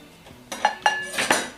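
A big kitchen knife set down among bowls, a chopping board and other utensils, giving a few quick metallic clinks and clatters in close succession, near and clear with no talking.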